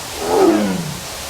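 A tiger at a zoo lets out one loud, close roar that swells and falls over about a second, with no talk over it.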